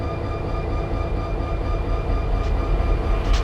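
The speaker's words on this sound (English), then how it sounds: "This hot train has a lot of power on the front end and wastes no time making its way past." A BNSF freight train in the Run 8 train simulator rolls past with a steady low rumble and rattling wheels, loud and continuous throughout.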